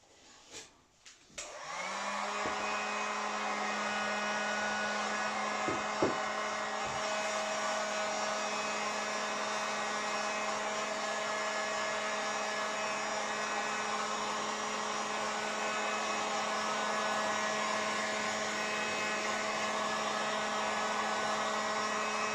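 A heat gun blows hot air to shrink the covering film on a large model aircraft. After a few clicks and handling noises it switches on, then gives a loud, steady whine with an even drone that continues to the end.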